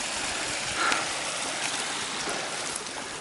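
Steady rushing water flows continuously, a broad soft hiss of a stream in the Trossachs heard alone at moderate distance.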